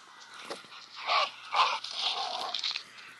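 A dog in the zombie survival video game Into the Dead gives a few soft whimpering yelps in quick succession, moderately quiet with faint background game ambience.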